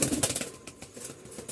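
Restless Giribaz pigeons in a new, low-roofed loft in Rajshahi give off a quick series of close wing flaps and flutters in uneven bursts, loud at the start and again near the end.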